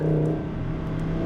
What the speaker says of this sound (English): this is when the capristo exhaust sound is on normal